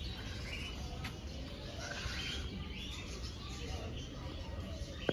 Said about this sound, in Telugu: నెక్స్ట్ లవ్ బర్డ్స్ అంట.